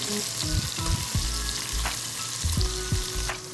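Ground pork browning in a pan, a loud steady sizzle close by, with a few stirring knocks and scrapes and a hum in the background, and no voices.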